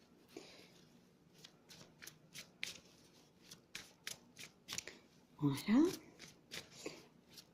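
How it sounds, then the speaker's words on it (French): Tarot cards are shuffled by hand in a rapid series of soft, close riffling flicks, with someone speaking briefly over them. "Alors, je vais les mélanger."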